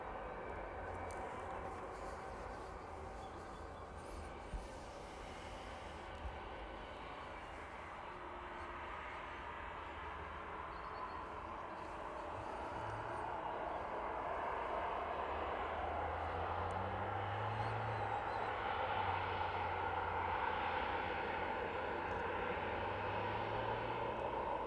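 A Boeing 767 airliner passes at East Midlands airport, a steady broad engine roar that swells louder in the second half, with a low droning tone sliding through it.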